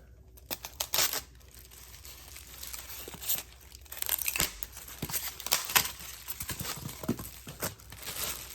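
A shipping package from a Temu order being cut open: close, crisp crinkling and tearing of plastic and paper, with small snips and rustles in quick, uneven bursts and no talking.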